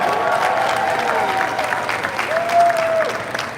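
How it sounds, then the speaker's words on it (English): Steady audience applause at a 50th anniversary celebration, many people clapping continuously at moderate loudness throughout, with faint voices or tones riding over the crowd. "So you guys deserve a big round of applause for bringing those games here."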